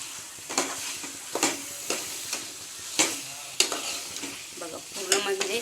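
Mutton sizzles in masala over a high gas flame, cooked Agri style, with a steady frying hiss broken by regular sharp scrapes and clanks of stirring close by.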